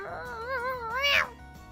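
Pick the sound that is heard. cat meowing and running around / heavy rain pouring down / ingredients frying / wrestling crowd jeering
cat meowing and running around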